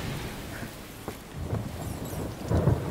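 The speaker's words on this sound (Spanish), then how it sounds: "Suena tormenta, chavales" Thunderstorm in the video game A Plague Tale: Requiem, a low rumble of thunder that swells toward the end over steady background ambience, with no talking.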